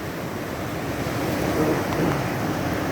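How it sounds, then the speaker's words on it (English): River water laps continuously at the shore along a forest trail, a steady broadband wash with wind noise, fairly close and with no speech. "Look at the water lapping up."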